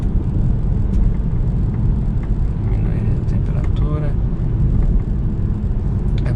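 Steady low road rumble and wind roar inside a JAC E-JS4 electric car cruising on a highway as it speeds up, a constant broadband drone with faint tonal whines and no engine note.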